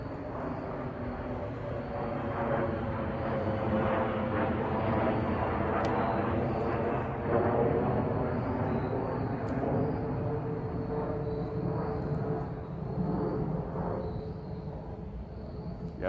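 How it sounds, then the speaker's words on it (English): A jet airliner flies low overhead on approach to Northeast Airport, its broad, steady roar holding loud and continuous for about sixteen seconds outdoors. "Here comes an airplane. Jet going into the Northeast Airport."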